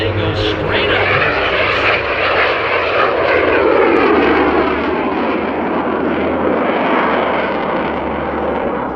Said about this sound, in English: you'll not only hear the propellers, but you'll hear the roar of the jet as they go straight up